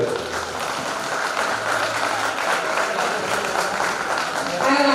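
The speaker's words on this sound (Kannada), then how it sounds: "ಮೈಕ್ ಸೌಂಡ್ಗಿಂತ ಚಪ್ಪಾಳೆ ಸೌಂಡ್ ಜೋರಾಗಿರಬೇಕು." Sustained loud clapping from a crowd at a community friendship event, an even, continuous patter with voices faintly underneath and a slight swell at the end.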